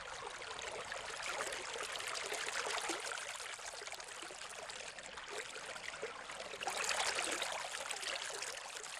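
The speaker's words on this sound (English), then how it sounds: "the water flows through a mill race" Creek water diverted from a dam runs steadily through a mill race toward a cast iron turbine in the Great Smokies, a continuous, fairly loud rushing hiss that swells briefly near the end, with no voices.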